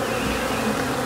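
Honey bees buzz steadily and loudly on a hive frame with bees hatching, a dense continuous close-up drone with no voices.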